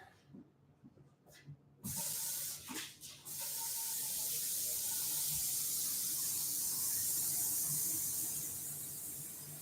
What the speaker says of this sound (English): Give them a little bit more water